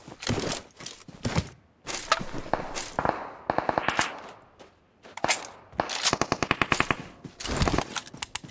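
Bursts of AK assault rifle fire in an online shooter game, loud and close, with rapid automatic strings and single shots separated by brief pauses throughout.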